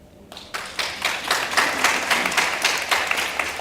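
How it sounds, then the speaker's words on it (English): Applause breaks out from an audience at a women's circle session of a convention, starting after a short pause and going on as a steady, moderately loud patter of many hands. "I think someone was clapping"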